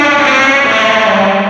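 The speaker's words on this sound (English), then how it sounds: "What other distortion pedal do you know of does that sound?" Electric guitar played through a distortion pedal on a pedalboard, a single thick, saturated sustained chord ringing loud and steady for a moment.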